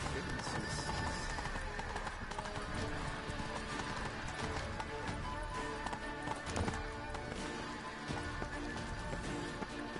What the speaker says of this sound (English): Man, Roach, you seem so slow compared to her horse.